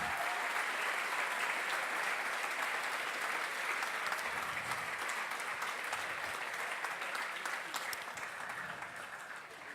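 Audience at a Formula SAE electric awards ceremony in Lincoln, Nebraska applauding the competition participants, a sustained dense round of clapping from a large crowd that tapers off slightly toward the end.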